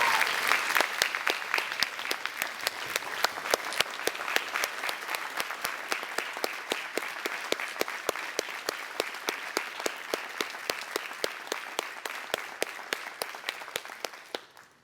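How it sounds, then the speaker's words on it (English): A banquet crowd at an FFA event gives long, steady applause for an honoree, many hands clapping with distinct sharp claps up close over a softer crowd wash, fading out at the end. "Let's give a rounding ovation, a round of applause to Steve Clark."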